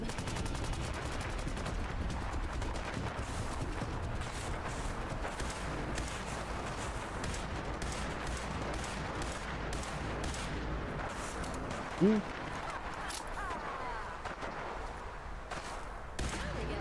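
Gunfire bursts from a video game battle, dense and continuous throughout under a steady wash of game noise, with one sharper louder hit partway through.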